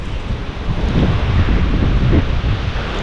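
Strong wind gusts buffet the microphone outdoors on a farm, a loud, steady rumbling roar with surging low blasts and no voices.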